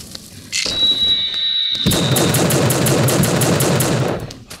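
Team Fortress 2 video game gunfire from marksmen: a high ringing tone, then a rapid burst of repeated shots that continues steadily, loud and close.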